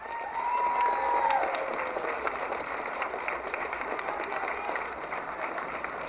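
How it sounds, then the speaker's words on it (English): Audience at a school winter concert applauding a third grader, a dense, steady round of clapping that holds at moderate level throughout, heard from within the crowd. "So I want to give him a round of applause."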